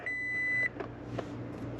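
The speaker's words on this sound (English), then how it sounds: "We should get power with all the beeps." A car dashcam powering up as the ignition key turns on gives a steady electronic beep tone lasting about half a second, followed by quiet cabin noise and faint clicks.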